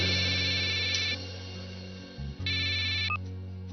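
An electronic phone ringtone trills in bright repeating bursts over a low steady hum, stopping and then starting again before cutting off, with no one speaking.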